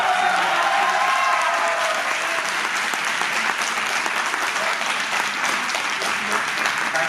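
Sustained audience applause with some cheering fills a hall at a university graduate scholars' talk series in Delhi, dense and steady throughout, easing slightly toward the end with no talk over it.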